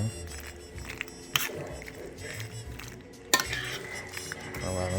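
A spoon scrapes and clinks through macaroni and cheese in a pot, soft irregular stirring with a couple of sharp metallic knocks against the rim, close and fairly quiet, with faint background noise.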